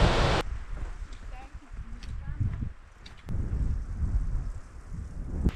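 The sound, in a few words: waterfall on a mountain trail in Aosta Valley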